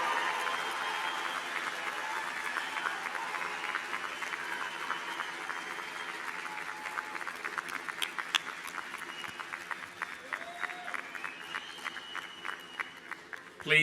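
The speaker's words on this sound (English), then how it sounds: "I ask your friends and family to join me in applauding the amazing graduating class of October" A convocation audience applauds a graduating university class with steady, sustained clapping that fills the hall at moderate distance, thinning slightly toward the end.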